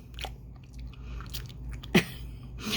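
Someone chewing food while wearing new immediate dentures after full-mouth extractions: soft, irregular biting and mashing sounds, close and fairly quiet, with one sharper crunch partway through and no speech.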